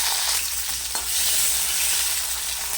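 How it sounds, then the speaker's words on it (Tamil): Small onions fry in a little oil in an iron kadai, with a steady, close, dense sizzle that keeps up unbroken throughout. "சின்ன வெங்காயத்தை போட்டு வதக்கிடுவோம்."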